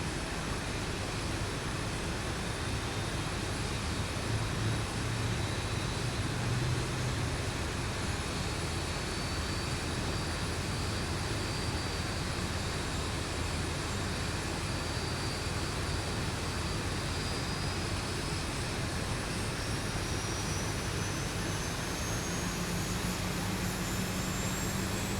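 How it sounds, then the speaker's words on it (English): Airliner engine number 1 spooling up in the X-Plane 11 flight simulator: a steady, dense jet roar with a faint rising whine, continuous and unbroken throughout. "let's go and start engine number 1"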